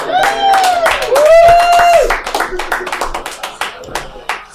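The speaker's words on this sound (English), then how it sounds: "Give a round of applause for your headliner, James McKinley." Clapping and cheers from a live comedy club audience in Chicago greet the headliner, with a loud sustained voice calling out over dense, close hand claps that thin out toward the end.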